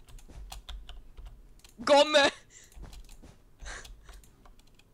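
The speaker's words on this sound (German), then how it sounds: "Warte, ich tipp's jetzt einfach rein." Quick, light taps on a computer keyboard during an online drawing-and-guessing game, scattered keystrokes running throughout while a person briefly shouts over them.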